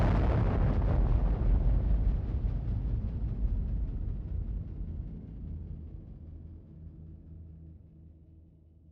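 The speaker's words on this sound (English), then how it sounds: "Oppenheimer had named the test Trinity, and the bomb detonated." The Trinity atomic bomb test detonates on a 100-foot steel tower, opening with a loud, deep blast that rolls into a long, low rumble and slowly fades over several seconds.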